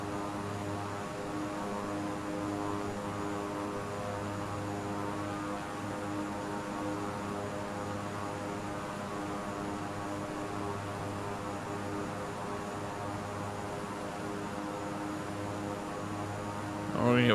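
A propeller airliner's engine drones steadily on the runway during take-off in a flight video game: a continuous even hum with layered tonal harmonics, constant in level throughout and without talk.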